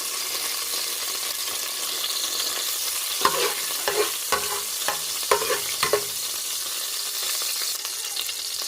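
Garlic fries in oil with a soft, even sizzle, and a handful of sharp stirring clacks land in the middle stretch, with no voices.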